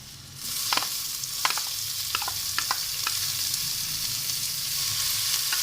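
A steady, bright sizzle of tomatoes added to a hot pan with ginger-garlic paste for aloo keema, with a few scattered crackles and pops; no talking.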